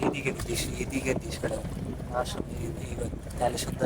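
A boat crosses a river amid continuous water wash and wind buffeting against the microphone, with scattered knocks and faint bits of background voices mixed into the steady noise.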